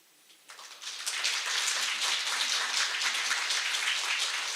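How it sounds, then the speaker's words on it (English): Applause from a conference audience at an event on North Korean human rights: faint at first, it swells within a second into a dense, sustained wash of clapping that continues evenly to the end. "please give them a big round of applause"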